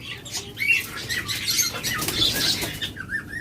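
Budgerigars flutter their wings in bursts of soft flapping, close and fairly quiet, with thin chirps scattered through.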